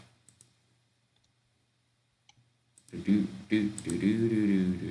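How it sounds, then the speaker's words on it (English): Sparse computer keyboard clicks and taps in a quiet room, a few isolated keystrokes before a voice starts talking over the final seconds. "Cool keyboard"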